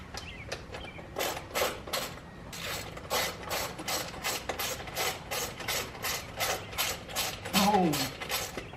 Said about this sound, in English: Take off your 2 lower bolts.